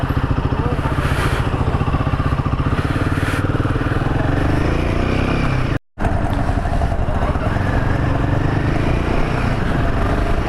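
A Royal Enfield Himalayan 450 motorcycle running steadily on a test ride, its loud, close engine thrumming without a break as wind rushes past, with a brief dropout midway.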